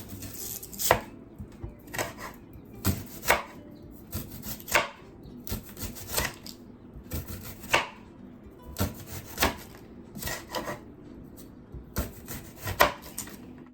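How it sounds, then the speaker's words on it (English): Knife chopping thin slices of onion on a cutting board, a steady run of crisp, close blade knocks in quick bursts with brief pauses between, no talking. "Now we're just gonna cut some thin slices of onion."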